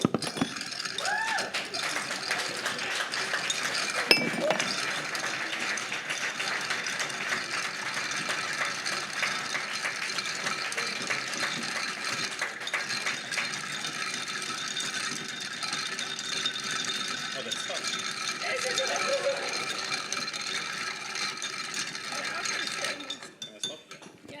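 A bar spoon stirs a martini in a glass, producing continuous fine rattling and clinking for the whole stretch, with one sharper knock early on, before it trails off at the end.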